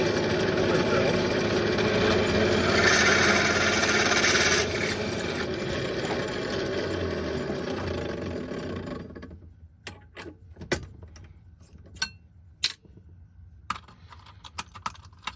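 A quarter-inch twist drill bit bores through an amplifier chassis, a loud steady grinding whine for several seconds that stops abruptly, followed by sharp scattered clicks and knocks of tools being handled nearby.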